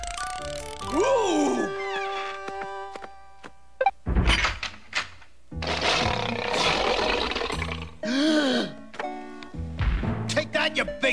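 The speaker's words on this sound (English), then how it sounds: "Big Mouth, bring on the dinosaurs!" A cartoon dinosaur roars during a circus taming act, with bursts of growling roars, thuds and clanking mechanical effects mixed with squeaky cartoon sounds and voices.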